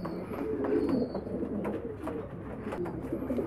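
French meat pigeons in Damietta cooing steadily, a soft, low, continuous murmur of several birds close by, with faint chirps above it.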